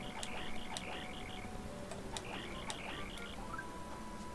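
Cricket chirping in the video game Paper Mario: The Thousand-Year Door: bright, repeated chirp bursts in a steady rhythm, clear and close against quiet background game ambience, with no talking.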